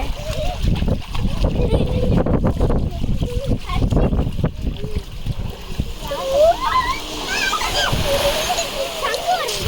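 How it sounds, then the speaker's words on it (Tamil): Sea waves wash onto Periyathalai beach with continuous splashing and surging water, close by and fairly loud, under steady talk and children's voices. "அலை பாருங்க அலை இங்கே எங்கள் கிட்ட வர வருது"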